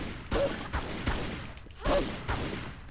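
Lara Croft's pistols in Tomb Raider: Anniversary firing in uneven short volleys, sharp cracks spaced about half a second apart with brief gaps, louder pairs standing out against the game's ambient background.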